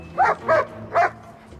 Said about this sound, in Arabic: هو الكلب ده بتاع ايه؟ الكلاب دي بتكشف المفرقعات او المخدرات